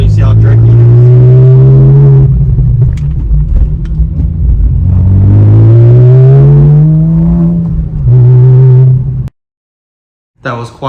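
Porsche 997 engine pulling hard under acceleration, loud and close, its pitch rising in repeated sweeps as it climbs through the gears, with a sudden drop to near silence near the end.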